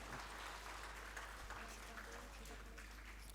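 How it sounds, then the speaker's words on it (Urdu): An audience on a Ramadan iftar quiz show applauds a correct answer, with steady, dense clapping throughout and a voice talking over it. "پلیز تالیاں بجا سکتے ہیں آپ لوگ"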